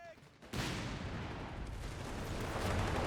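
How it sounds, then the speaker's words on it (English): A phosphorus shell fired from a Scott self-propelled gun in Company of Heroes 3 lets out a loud, sudden boom that rolls into sustained rumbling battle noise and gunfire, with a voice in the mix. "Phosphorus shell going out by our US player from that Scott"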